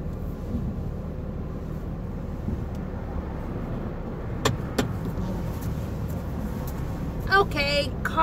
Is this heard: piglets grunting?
no